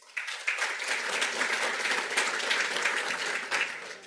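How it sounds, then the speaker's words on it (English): An audience at a network operators' conference claps steadily for a speaker walking up to the stage, a dense, even wash of applause from many hands that continues throughout. "thank you for the applause"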